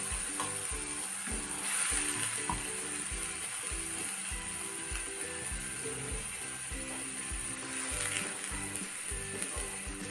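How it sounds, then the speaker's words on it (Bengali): A prepared spice paste fries with dried red chillies in oil in a home kitchen pan, a continuous close sizzle with rhythmic stirring scrapes throughout, no voices heard. "তো এই পেস্টটা এখন ভাজা ভাজা করে নেবো।"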